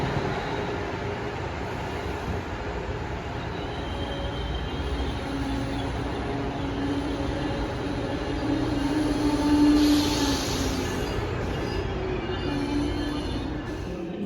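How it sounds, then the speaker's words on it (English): An Acela high-speed train passes through Baltimore Penn Station with a continuous low rumble and rolling wheel noise. The sound swells slightly toward the middle and is joined by faint high-pitched squeal, with no talking. "Hot on the heels of Northeast Regional 175 is an Acela high-speed train to Washington"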